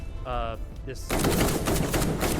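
A short tonal game cue gives way to rapid, loud gunfire as enemies are shot in the video game Bad Way, dense repeated shots filling the second half.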